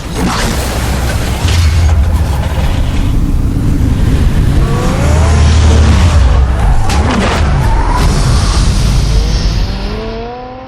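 Batmobile from the Batman Telltale Series game driving with a steady engine roar and deep rumble, rising whine and several tire squeals toward the end, loud and close throughout.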